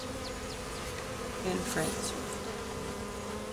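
Steady bee buzzing from a colony in an attic fills the scene, a dense droning hum with a brief louder swell near the middle.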